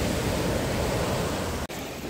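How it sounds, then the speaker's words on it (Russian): Rough, stormy sea surf washing steadily onto a beach in Gudauta, Abkhazia, a dense continuous roar with no voices, broken by a brief dropout near the end. "сегодня море немного штормит"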